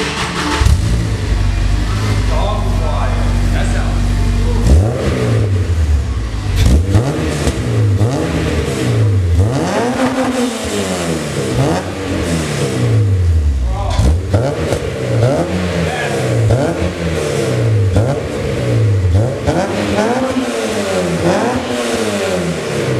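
An Acura RSX Type-S engine revs repeatedly through a loud custom exhaust with a big can, 3-inch in and out, rising and falling in a steady rhythm of throttle blips, close and loud.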